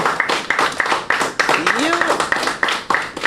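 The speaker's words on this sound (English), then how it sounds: "So give yourself a big round of applause again" Applause for quiz competitors at a national primary school diabetes quiz: a dense, steady wash of many hands clapping fills the whole stretch, with voices mixed underneath.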